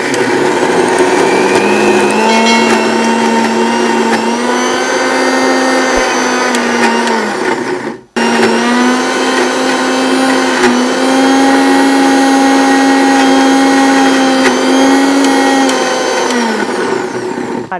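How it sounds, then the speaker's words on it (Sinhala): A blender runs loud and steady while mixing cream cheese ingredients with milk, its motor whine holding for about eight seconds, cutting out for an instant, then resuming just as strongly. "කරලා දැන් අපි මේක හොඳට බ්ලෙන්ඩ් කරගමු."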